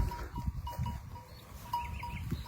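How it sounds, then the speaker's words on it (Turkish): Sheep in a flock bleat now and then at a moderate distance on a shepherd's farm, a few short calls over low outdoor ambience and faint background murmur. "koyunların yanına doğru gidelim mi Barış?"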